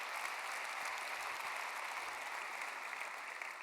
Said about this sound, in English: another big round of applause for everyone who was up here